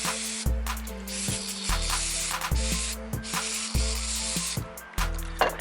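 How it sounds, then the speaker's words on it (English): Brake cleaner hisses from a spray can onto the dirty, blackened MAF sensor of a BMW in several loud, close bursts separated by short pauses, with clicks and rattles between the sprays. "So I'm gonna spray it."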